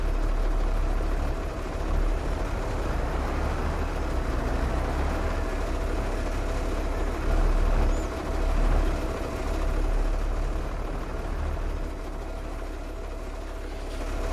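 In Farming Simulator 22, a T-150K tractor engine idles with a steady low drone and a soft hiss, holding even loudness throughout with no voices.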